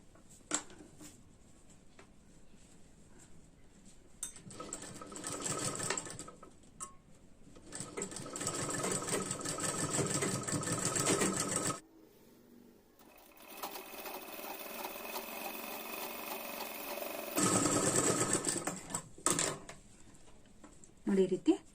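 A sewing machine stitches a boat-neck belt blouse in several loud bursts of rapid whirring, separated by short pauses and quieter stretches.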